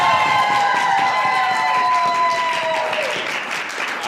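An audience at a Cleveland ConCoction 2019 prompt joust applauds and cheers to vote for a contestant, a dense burst of clapping with some whoops that stays loud, then eases slightly toward the end.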